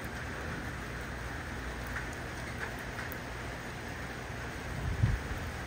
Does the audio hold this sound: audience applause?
no